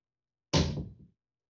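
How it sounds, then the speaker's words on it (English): A room door is pulled shut with a single close, solid thump that rings briefly and fades within about half a second, alone after silence. "I just closed my door there."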